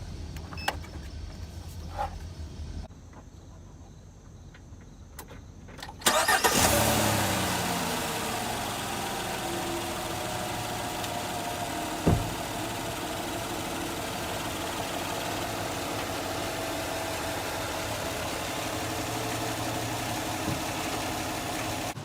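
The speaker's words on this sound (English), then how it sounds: "we're going to be jump starting this truck right here" A truck engine cranks and catches on an AUTOGEN 4000 amp lithium jump starter, a sudden loud start near the six-second mark followed by steady close idling with a brief blip partway through.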